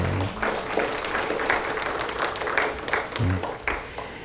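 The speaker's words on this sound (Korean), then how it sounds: "우리 축복 박수 한번 할까요?" Church seminar congregation gives a round of blessing applause, steady broadband clapping throughout with faint voices and some low murmuring beneath.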